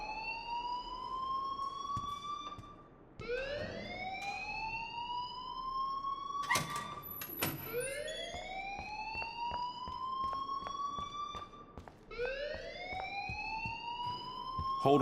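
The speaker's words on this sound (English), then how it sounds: "please turn off that alarm since that's your job" School fire alarm in the video game Life Is Strange, a repeating rising electronic whoop sounding about every four seconds, loud and steady with no talk over it.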